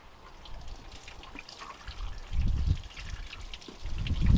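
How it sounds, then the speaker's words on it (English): Water drains in an uneven trickle from the nozzle of an off-grid laundry washer used in cold weather, with heavier low gushes swelling around the middle and again at the end, close and fairly quiet. "I'm going to let a little bit more water out"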